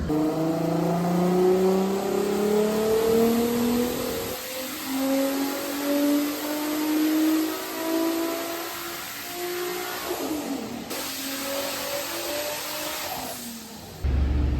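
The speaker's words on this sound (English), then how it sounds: "Let's hope this engine holds together, because it's going to be screaming." Turbocharged V6 Vauxhall Corsa C screams on a dyno run, engine pitch climbing steadily through each gear before dropping at the shifts, loud and close with no voices.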